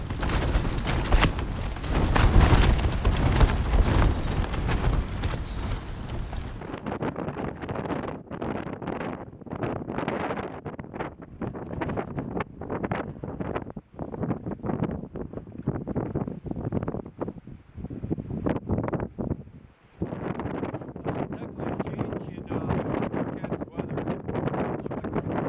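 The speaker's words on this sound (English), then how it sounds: "definitely not climbing up anything with this wind." Strong mountain wind at South Colony Lakes buffets the microphone in rough, gusting bursts, loud and roaring at first, then choppy and uneven.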